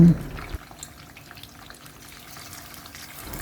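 Pieces of Spanish mackerel fry in hot oil in a pan over medium-to-high heat, giving a steady low sizzle and scattered crackles that run continuously after a brief quieter start.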